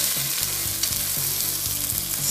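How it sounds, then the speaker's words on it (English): Pork country-style spare ribs dredged in gram flour frying in a pan, a loud continuous sizzle with crackling pops and no voices. "flip over our country style spare ribs"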